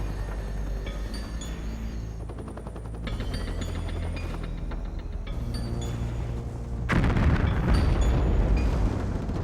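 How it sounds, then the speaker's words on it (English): Gunfire at night during a military invasion in Panama, heard as a dense, continuous roar of distant shots and booms that swells louder toward the end. "As gunfire shatters the stillness of the night"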